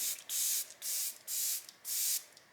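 Four short bursts of a fine mist of makeup setting spray, each lasting about half a second, hissing crisply at close range with brief pauses between them.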